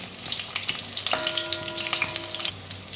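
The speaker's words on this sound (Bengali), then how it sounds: "বেগুনটা ভেজে নেব" Eggplant frying in mustard oil in a pan, a steady close crackling sizzle with scattered pops and a brief tonal ring partway through.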